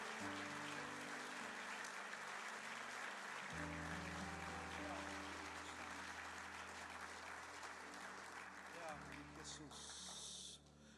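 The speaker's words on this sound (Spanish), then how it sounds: "Dele un aplauso ahí al Señor." A church congregation applauds throughout a worship service, sustained clapping mixed with organ or keyboard music chords, full and steady from start to finish.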